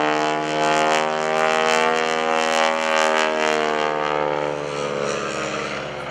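A Stearman open-cockpit biplane's radial engine drones steadily through a barrel roll at a lakeside airshow, loud and continuous with a slight swell and fade as the aircraft turns overhead.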